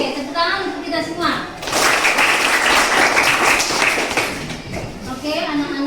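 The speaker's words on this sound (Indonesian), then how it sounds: "Oke, tepuk tangan untuk kita semua" Classroom of children clapping together for their class, a bright burst of claps that swells for a few seconds between stretches of talking before and after.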